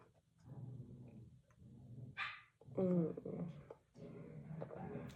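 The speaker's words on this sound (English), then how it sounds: "You guys probably hear my dogs in the background being crazies." A dog barks sharply a few times, with more barking and yips scattered through a few seconds of background noise.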